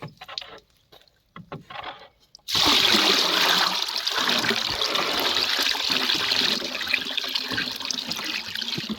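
After a few soft handling sounds, liquid pours steadily and loudly into a container on a natural farm, a continuous splashing gush that keeps going to the end.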